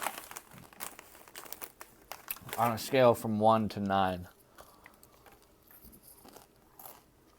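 A Cheetos snack bag crinkles and the chips are crunched and chewed in short scattered bursts near the mic, and a voice speaks briefly in the middle.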